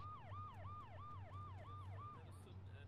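Emergency vehicle siren wailing in steady repeating sweeps, loud and close, over a low engine rumble in a game combat setting.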